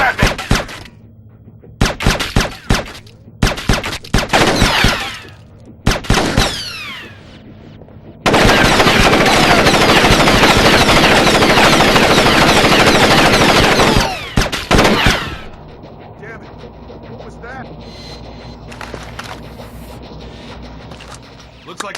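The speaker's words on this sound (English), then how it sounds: "They're shooting at me! They're taking shots at me!" Bursts of gunfire in Splinter Cell: Chaos Theory: several short volleys, then a long sustained loud stream of automatic fire, trailing off to quieter sounds with game voices.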